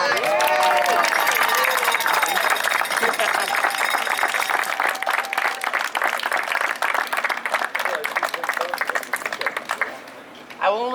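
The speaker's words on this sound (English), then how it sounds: "I think we need to give Keith a round of applause." Sustained applause from a crowd honoring a runner, dense clapping with some cheering, fading near the end.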